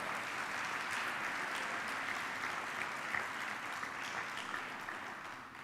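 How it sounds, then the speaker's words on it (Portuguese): A church congregation applauds at a Portuguese-language service, a dense, steady wash of clapping that holds at an even loudness throughout with no voices on top. "Você pode dar um glória a Deus, aplaudir o Senhor de todo o coração aí bem forte."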